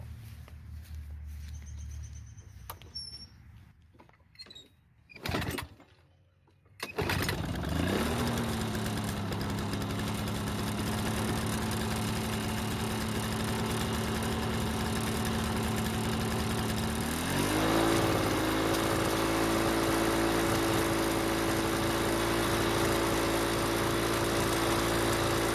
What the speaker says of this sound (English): we're ready to try starting this mower once again.